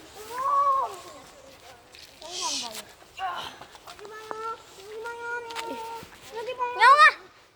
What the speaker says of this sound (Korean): 저 지금 고양이 여기 있거든요